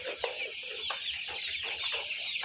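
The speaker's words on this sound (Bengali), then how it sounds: "মুরগিগুলো খাবার শেষ করেছে কিন্তু পাত্রে কিন্তু একটু ঝুরা খাবার আছে, সেটাও খাচ্ছে" Farm chickens cluck and chatter steadily while they peck leftover crumbs from a feeder, a busy, mid-distance flock with overlapping calls and no talking.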